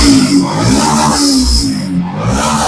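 A second-hand motorcycle at a used-bike showroom near Kolkata, just started and revving hard. The engine roars loud and close with a steady throaty drone that swells and dips slightly, with no talking over it.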